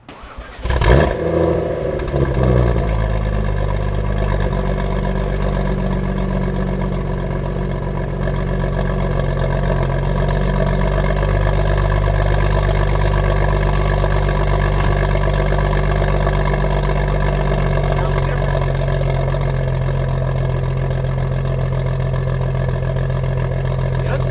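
A BMW N55 engine idling steadily with a new exhaust fitted, starting up with a burst and then holding a low, continuous rumble for the rest of the clip.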